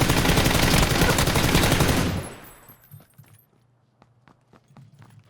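Gunfire in the video game PUBG comes as a dense burst of rapid shots for about two seconds, then stops. A few faint clicks and small thuds follow over near silence.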